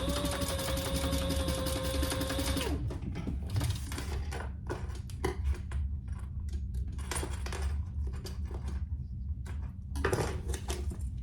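A sewing machine runs at speed stitching rows across a bag swivel, a loud continuous mechanical whir that stops after a few seconds, followed by rattling clicks and handling sounds of the fabric and metal hardware.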